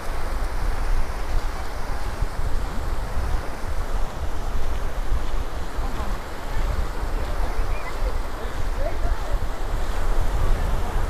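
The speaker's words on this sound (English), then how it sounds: "Back at the beach." Ocean surf washes continuously onto the sand at Indian Rocks Beach, Florida, at sunset, a loud broad roar mixed with heavy wind buffeting the microphone.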